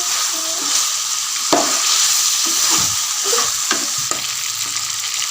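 Chicken frying with green chilli and tomato for a bhindi chicken curry, a steady close sizzle broken by repeated scraping thuds as the pan is stirred, with no voices.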